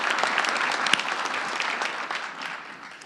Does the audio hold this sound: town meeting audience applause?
yes